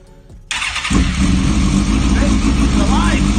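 A 1000cc, 150 bhp dirt bike engine cranks briefly then catches and bursts into a loud, steady idle close by, running continuously after the start.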